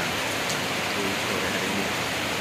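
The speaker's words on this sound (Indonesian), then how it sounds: "Ini sudah mulai lagi hujan lagi ya." Heavy rain pours down in front of a house, a dense and loud hiss of drops that holds steady throughout with no breaks.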